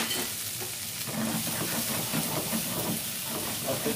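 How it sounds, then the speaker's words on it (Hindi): Shrimp sauté in a pan with pesto sauce, a busy close sizzle broken by scraping stirs and bursts of steamy hiss, with no talking. "और पेस्टो सॉस को थोड़ा ऐसे कुक करेंगे विद श्रिम्प"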